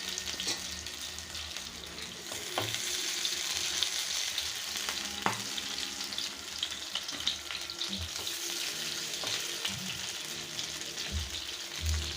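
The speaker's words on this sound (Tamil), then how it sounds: "இப்போ இந்த மீன் வறுத்த எண்ணெயிலே இதை நம்ம பொறிக்கலாம்" Food frying in oil previously used to fry fish sizzles steadily and softly at close range, with occasional stirring clicks and small pops across the whole stretch.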